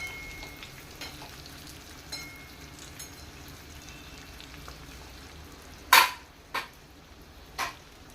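Stuffed bitter gourds fry gently in oil, giving a faint, steady low sizzle broken by a few sharp clicks and utensil taps near the end.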